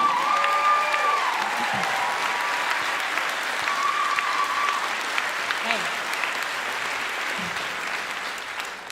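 An audience at a student speech event applauds, with sustained clapping from a sizable crowd that fades gradually toward the end. A few voices and brief tones are heard beneath the clapping.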